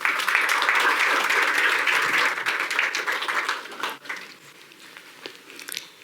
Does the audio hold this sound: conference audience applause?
yes